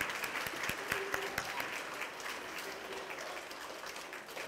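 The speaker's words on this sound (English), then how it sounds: "Let's give her a round of applause." Audience at a school district Citizen of the Month event claps steadily, with a few sharp individual claps up close over a fainter spread of applause.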